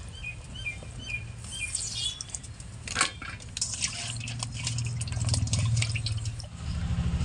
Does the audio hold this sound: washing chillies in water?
yes